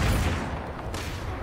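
Rifle fire in the post-apocalyptic shooter Fallout 76 pounds in a loud, dense burst of overlapping shots that fills the short stretch without a pause.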